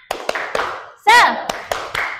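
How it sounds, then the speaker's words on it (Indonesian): Schoolchildren in a primary classroom clap a short rhythmic chant pattern, crisp close hand claps in a quick uneven beat with a voice shouting mid-sequence. "Tepuk semangat."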